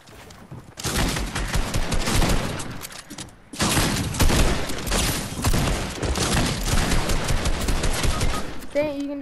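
Fortnite gunfire rattles in dense, rapid bursts at close range, with a short pause near the middle before the shooting resumes and continues steadily to the end.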